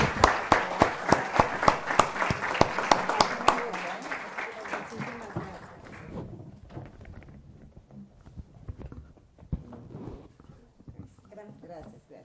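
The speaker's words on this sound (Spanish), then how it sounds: "pidiéndoles un aplauso para todos quienes han participado en este evento" Audience applause at a book presentation event, sharp distinct claps in a clear rhythm at first, then fading into scattered softer clapping as voices and room noise take over.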